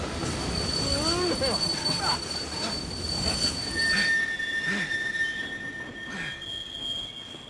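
A train makes an emergency brake stop, its wheels squealing loudly in long, piercing tones over the rumble and clatter of the cars.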